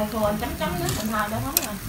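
Marinated pork ribs sizzle on a grill with a soft, steady hiss close by, while a person talks over it throughout.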